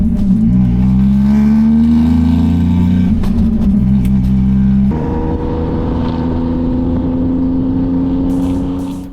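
A restored, once-scrapped Daihatsu car on a test drive, its engine droning loudly and steadily from inside the cabin, with an abrupt drop in pitch partway through like a gear change before it builds again.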